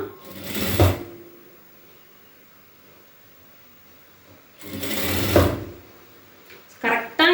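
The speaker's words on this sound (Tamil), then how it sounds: "ஸோ இப்போ இப்படியே நம்ம வந்து தையல் போட்டுட்டு வரலாம்." A sewing machine stitches blouse fabric in two short bursts of rapid mechanical whirring, close by, with a quiet pause between them and a brief clatter near the end.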